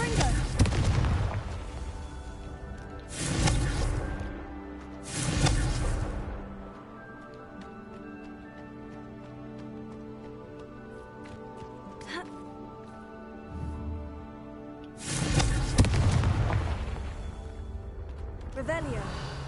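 Confringo spell blasts in Hogwarts Legacy on PS5, three heavy booming explosions early on, a quieter stretch with lighter effects, then one more big blast near the end, with a voice speaking between them.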